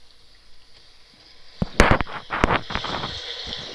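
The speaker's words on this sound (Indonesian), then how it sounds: "Kalau diklik ada suara angin." Wind sound effect triggered by a click in a quiz game, a brief breathy whoosh with scattered clicks that rises after a quiet start, then fades into a soft hiss.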